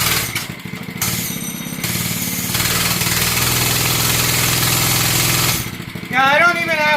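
A 105cc gas-powered Oryxearth mini bike engine runs steadily at close range, its low rumble holding throughout before a higher revving whine near the end, with people talking over it.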